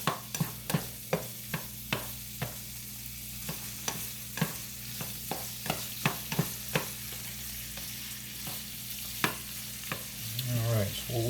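Carbonara sauce with pepper and garlic cooks in a pan, a soft steady sizzle under a run of sharp clicks and taps of a utensil stirring against the pan, ending in a brief louder scrape.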